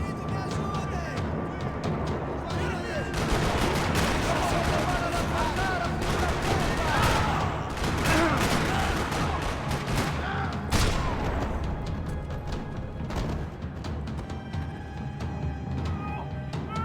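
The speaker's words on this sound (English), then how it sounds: "Another parking lot rattling with gunfire." Dense, rapid bursts of gunfire crackle and rattle for the whole stretch, loud and close, with sharper single reports punctuating the continuous barrage.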